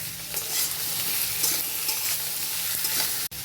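Chopped onion and tomato fry with potatoes and a bay leaf in a pan of hot oil for a Bengali curry, giving a steady, close sizzle with occasional stirring scrapes and a brief cut-out near the end.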